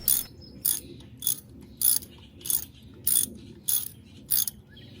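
Ratchet wrench clicking in a series of eight sharp, evenly spaced bursts while installing a throttle body on a VR6 engine, close and loud with no talking.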